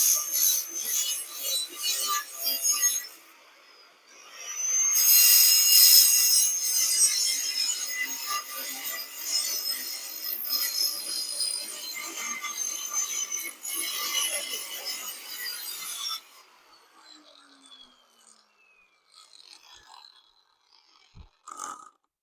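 A cutting wheel grinds and cuts metal for a shamrock decoration, giving a harsh sustained grinding rasp that rises and falls over several passes, then fades to quiet handling noises near the end, with no talking.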